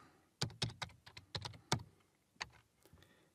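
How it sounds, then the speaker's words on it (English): A command is typed on a computer keyboard in PowerShell, with a burst of close, crisp keystrokes that runs irregularly and then thins out into a few scattered presses near the end, with no voice. "I'm going to type cd backslash"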